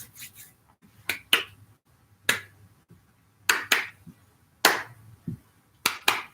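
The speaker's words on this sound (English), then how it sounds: "This time I'm going to clap." One person claps as a ritual offering to Amun Ra during an ancient African adoration, sharp close hand claps in irregular single and double strikes with quiet gaps between them.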